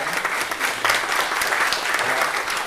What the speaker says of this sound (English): you can keep your clapping going